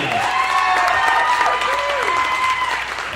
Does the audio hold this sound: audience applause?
yes